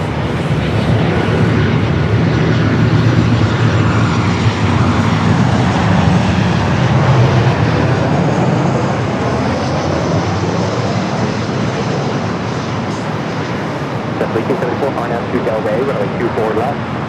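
An Alaska Airlines Boeing 737-900ER arriving from Seattle at LAX on the north side makes a loud, continuous jet engine roar, with a broad rumble that slowly shifts and eases over the whole stretch.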